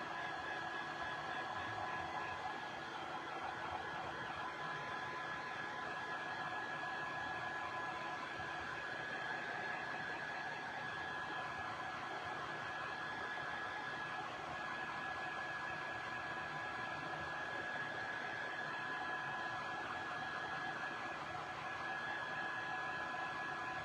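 A heat tool blows hot air steadily over an oversized DIY ornament, producing a continuous loud whooshing hiss with a faint whine that stays even throughout, with no talking.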